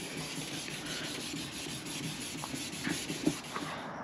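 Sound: wet sanding car headlights

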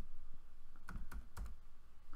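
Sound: typing on a computer keyboard

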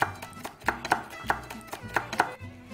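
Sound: chopping peppers

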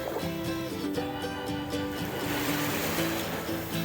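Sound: calm sea waves

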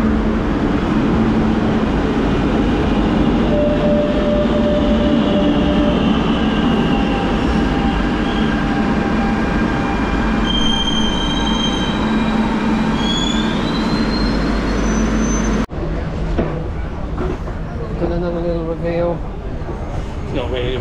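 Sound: train arriving at metro platform

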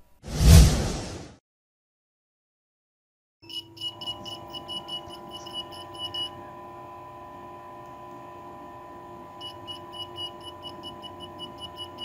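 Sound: buzzer of a DIY wireless test pen

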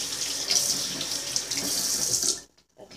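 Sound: hot water running from a tap

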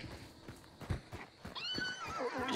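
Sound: horse neighing in the video game Hunt: Showdown

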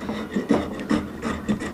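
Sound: hand plane cutting a glued-up wooden spec table

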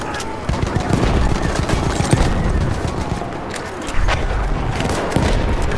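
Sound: BAR rifle gunfire in a video game

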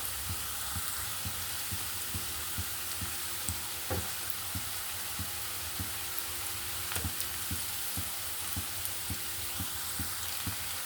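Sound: onion frying in a pan with turmeric

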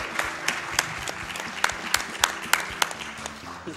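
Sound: applause

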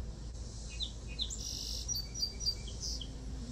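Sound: birds chirping outdoors in the morning

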